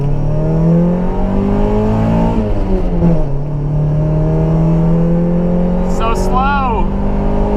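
A Mazda Miata rally car driven hard, its engine droning loudly and steadily up close with rising and falling revs, and a brief spoken remark heard over it.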